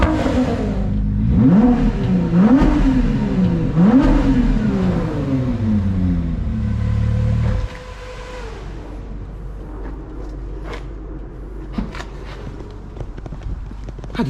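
A Ford GT fitted with an aftermarket exhaust starts up and revs several times in sharp rising-and-falling bursts, then drops to a lower steady idle with small clicks and movement nearby.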